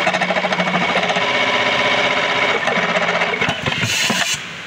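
A Juki MEB-3810C keyhole buttonhole sewing machine runs up close with a steady, loud mechanical chatter and rapid rhythmic stitching beat that shifts near the end, then drops off abruptly.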